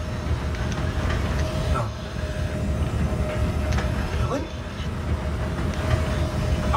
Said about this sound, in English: that train will take us from one side mission to the other